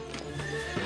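A donkey gives a short, harmonic bray-like call lasting under a second, fairly close and clear against a quiet background.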